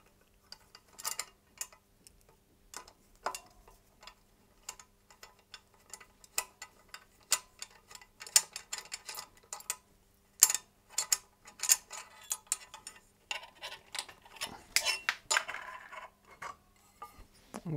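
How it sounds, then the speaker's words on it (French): A 4 mm hex key loosens the bolts clamping a road bike handlebar to its stem, producing quiet, irregular metallic ticks and ratcheting clicks close by, with no talk. "nous allons maintenant desserrer le cintre de sa potence. Donc on va utiliser pour ce cas présent une clé BTR de 4 mm"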